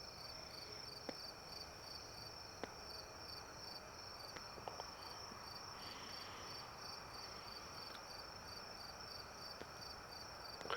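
Crickets chirp steadily and faintly in a quiet night setting, with a few soft clicks and rustles now and then.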